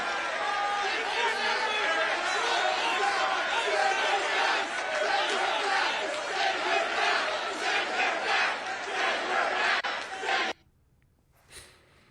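A rally crowd shouts and chants together loudly for about ten seconds, a dense roar of many voices, then it cuts off abruptly to near silence with a brief faint sound near the end.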